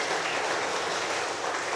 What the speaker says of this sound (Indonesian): adik-adik memberi aplaus kepada kakak-kakak remaja yang hari ini tugas